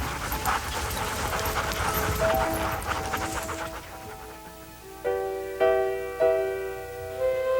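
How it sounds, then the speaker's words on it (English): Sled huskies panting steadily in rapid rhythmic breaths, with a few whimpers and short tonal yips toward the end, fairly close, in snowy Alaska. "silent, except for the falling snow and your panting huskies."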